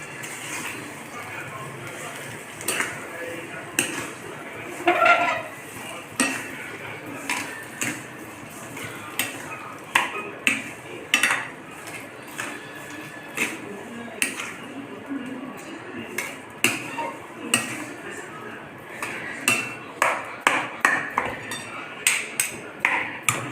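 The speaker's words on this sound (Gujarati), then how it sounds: "હવે આપણે તેને બરોબર મિક્સ કરીશું।" A spoon stirring sweet potato sheera with salt in a pan, giving repeated scraping clinks and taps that come in irregular bursts and thicken toward the end, close and moderately loud.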